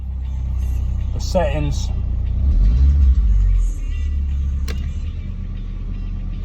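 A Nissan Figaro engine, suffering a cold start idle problem, revs up briefly and settles back to a steady low idle rumble, with someone speaking over it.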